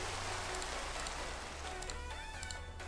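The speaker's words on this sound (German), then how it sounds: "Oh, der Regen hört nicht auf." Steady rain falls in the game Minecraft, a continuous dense hiss with no voices over it.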